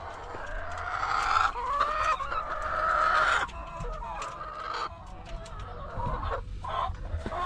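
Several chickens cluck and chatter continuously at close range, with occasional louder squawks rising over a steady background of farmyard noise.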